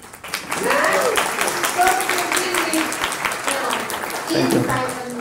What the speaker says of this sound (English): shall we do a round of applause?